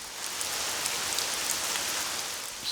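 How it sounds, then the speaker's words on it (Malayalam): Gentle rain falling steadily, a soft, even hiss of drops on a surface throughout, with no voices. "ശാന്തമായ മഴയും"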